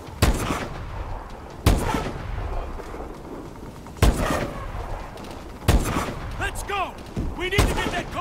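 Gunfire in the video game Call of Duty: Advanced Warfare, with five loud, sharp shots spaced a second or two apart amid battle noise, while voices shout over the action.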